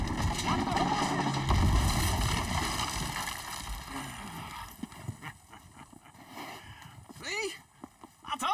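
Horses move along in Red Dead Redemption 2, their clip-clopping hooves and a brief neigh mixed with wind noise and steady background rumble, with voices speaking throughout.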